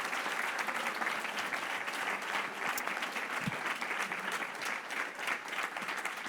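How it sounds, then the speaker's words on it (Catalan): An audience claps steadily after a round-table discussion marking World Consumer Rights Day, a dense, even applause of many hands held at a moderate level for the whole span. "Un aplaudiment per ells, sisplau."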